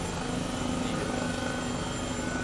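Steady, loud rotor and turbine drone of an Airbus H135 helicopter in Microsoft Flight Simulator 2020, continuous throughout with no talk over it.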